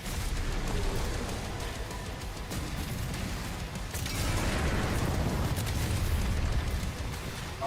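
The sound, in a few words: giant shotgun firing in video game DOOM: The Dark Ages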